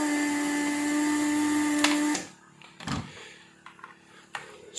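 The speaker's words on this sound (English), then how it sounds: "this pump is working separately" A Weller WR3M rework station's separate desoldering pump runs with a steady, buzzing hum for about two seconds, then cuts off, leaving a few faint clicks and handling noises.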